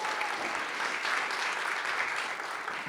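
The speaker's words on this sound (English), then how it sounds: "let's round of applause right here" Applause from an audience at a live event, a steady, even wash of many hands clapping that holds at a moderate level throughout, fairly distant and without voices.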